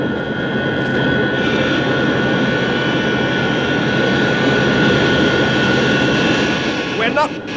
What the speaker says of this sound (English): When the tail is pointing towards the landing platform, the retrojets will open. The jets are about to fire.